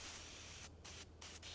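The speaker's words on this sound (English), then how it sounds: "I'll put silicone spray right in the groove" Silicone spray hissing steadily from an aerosol can into the window groove of a Mercedes 300D door, close and loud, broken by three short pauses as the nozzle is released.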